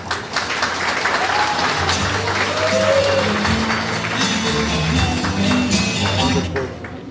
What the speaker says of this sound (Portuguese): puxa as palmas bem